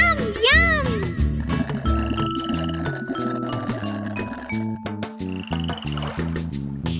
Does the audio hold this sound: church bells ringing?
no